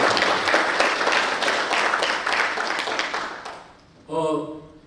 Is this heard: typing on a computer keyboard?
no